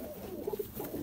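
Large breeding pigeons coo in a low, soft series of a few quick notes, heard close and alone.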